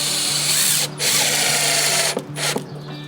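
A power drill drives long screws into a window frame during home building, the motor whining loud and steady with two brief pauses and short stop-start bursts near the end.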